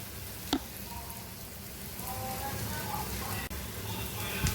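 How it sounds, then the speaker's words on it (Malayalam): Onions and curry leaves sautéing in a pan for squid masala, a soft, even sizzle with faint crackles and a couple of brief clinks of a utensil, fairly quiet throughout. "ഇപ്പോൾ ഉള്ളിയൊക്കെ അത്യാവശ്യം വഴറ്റിയെടുത്തിട്ടുണ്ട്. ഇനി ഇതിലേക്ക് കുറച്ച് കറിവേപ്പില കൂടി ചേർക്കുകയാണ്."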